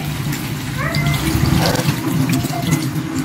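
Water pours steadily into a pot of simmering chicken pieces with lemongrass, a continuous close splashing and rushing gush over a low background hum.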